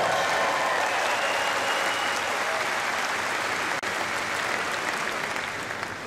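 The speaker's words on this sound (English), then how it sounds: "So you gave us a clap." An audience claps loudly and continuously at the opening ceremony of the 94th Lions Clubs International Convention in Seattle, dense applause that fades slightly toward the end.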